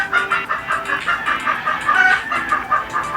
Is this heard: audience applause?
no